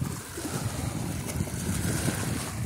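Choppy water washes continuously against rocks at a fishing spot, a broad steady roar of moving water and wind, close and fairly loud with no clear individual waves.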